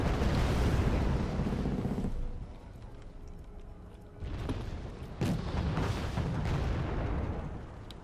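Bombs detonate in a Wargame AirLand Battle match, heavy low booms and rumbling blasts with a few sharp bursts in the second half, loud at first, then dropping before further explosions resume.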